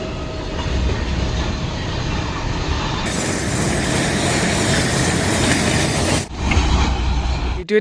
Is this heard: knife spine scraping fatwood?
no